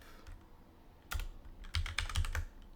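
Keys clatter on a computer keyboard in short clustered bursts of typing, quiet and close, with pauses between runs of keystrokes.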